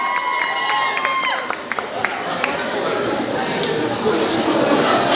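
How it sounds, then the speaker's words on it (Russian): An audience cheers and applauds for the RolleRcoasteR team at the FIRE CHAMP winter 2022 competition: a dense, steady roar of crowd noise with whistles and shouts, and voices mixed in throughout. "Громче, громче, поддержим еще раз аплодисментами."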